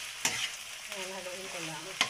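Pechay with tofu in oyster sauce sizzles in a pan while a utensil scrapes through it, two sharp stirring knocks at the start and end over a soft, steady fry.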